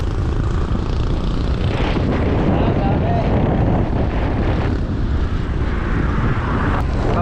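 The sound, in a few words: strong wind blowing on camera microphone while cycling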